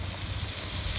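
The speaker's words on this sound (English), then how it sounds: "I hear a sizzle, Bobby." Chicken sizzles as it cooks, a soft steady crackling hiss with a low rumble beneath, continuous and fairly faint, with no voices.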